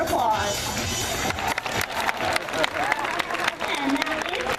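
Audience applause at a sea lion show at Atlantis Marine World, loud and sustained throughout, with crowd noise mixed in and bits of voice over it.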